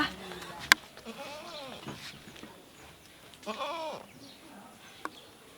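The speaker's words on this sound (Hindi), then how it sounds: "चल रे बकरी तोरा बेचबो आए हम।" A goat bleats in several wavering calls spaced across the scene, fairly close and moderate in volume, with a couple of sharp clicks and faint voices around it.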